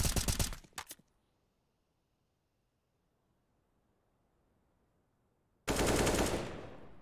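Bursts of automatic gunfire in a competitive tactical shooter game: a loud close volley at the start, a few seconds of near-silence, then another harsh burst that fades out.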